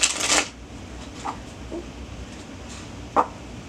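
A single burst of card shuffling at the start, brisk and close, followed by near silence with a couple of faint soft taps.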